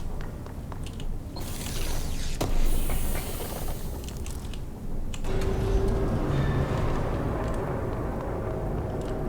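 Sector elevator machinery in the video game Control gives a steady mechanical clanking and ratcheting with a hiss underneath. A louder surge comes early, then a continuous rumbling hum. No one speaks.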